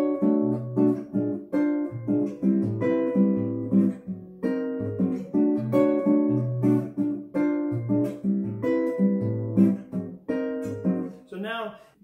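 A guitar is fingerpicked in a Brazilian jazz rhythm pattern, low thumbed bass notes alternating with plucked higher chords in a steady syncopated pulse, close and clear, with no talk over it.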